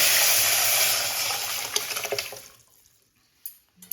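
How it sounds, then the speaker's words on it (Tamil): Diluted tamarind rasam liquid poured into a cooking pan, a steady splashing pour that thins out into a few trailing drips and clinks, close and fairly loud with no talking. "நம்ம கரைச்சி வச்சுக்கிற ரசத்தை வந்து சேர்த்துக்கலாம்."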